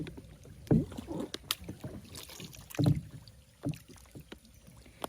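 Oars splash and knock against a rowboat paddled through rain at a botanical garden in Rayong, with irregular nearby strokes over steady rain patter and light wind noise.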